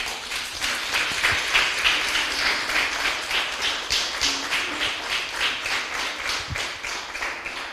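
A church congregation applauding, a sustained round of clapping that settles into a rhythmic, pulsing beat and carries on steadily without voices.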